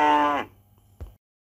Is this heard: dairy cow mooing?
yes